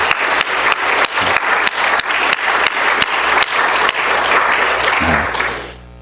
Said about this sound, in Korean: 우리 청년들 이번에 한번 이분들을 생각하면서 한번 박수를 쳐보겠습니다